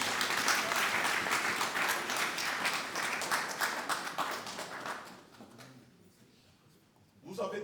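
A church congregation applauds in a sustained burst of dense clapping that tapers off toward the end, followed by a short renewed flurry of sound.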